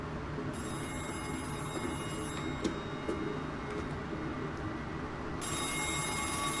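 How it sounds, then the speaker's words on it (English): Bursts of a bat phone's bell ring out at a steady level, one long trill at the start and another near the end, over a constant low hum with a few faint clicks between. "It's the bat phone!"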